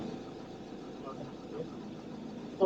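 A van engine idles steadily at a Romanian border crossing, a low continuous rumble with faint voices in the background and a brief louder knock near the end.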